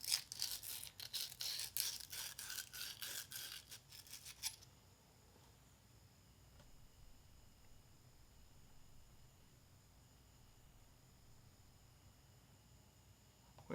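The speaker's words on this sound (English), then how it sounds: "we're going to scuff the brass tube here. Just get some sandpaper, scuff it up" Sandpaper scuffs a brass tube in rapid back-and-forth strokes, a close, bright rasping that runs for about four and a half seconds before stopping abruptly into quiet room tone.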